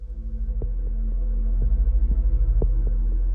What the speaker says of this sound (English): What I'm hearing now is the beating of my own heart, because I'm sitting on the ground and the vibrations of my heart are being transmitted to the geophone